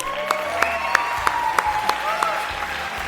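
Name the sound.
audience applause at a dinner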